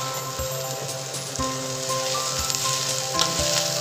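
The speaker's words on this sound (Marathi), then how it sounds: "आपण त्यात प्रथम कांदा टाकू। कांदा आणि कढीपत्ता आपण एकदम टाकू।" Chopped onion and curry leaves sizzling in hot oil in a pan for egg bhurji, an even close crackling hiss with light taps and stirring knocks, no talking.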